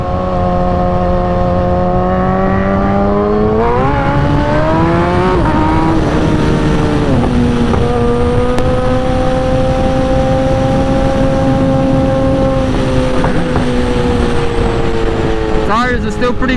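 A 2008 Suzuki GSX-R 1000 sport motorcycle revs loudly up and down at close range, the engine pitch climbing and falling in repeated swells during a short burnout.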